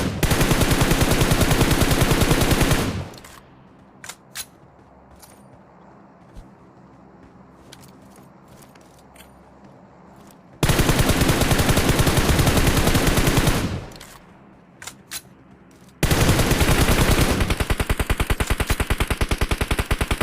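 Heavy automatic gunfire in a battle royale shooter fight, one player against a four-person squad. Dense, loud bursts come in three long volleys, with quieter gaps between them where only a few scattered single shots sound.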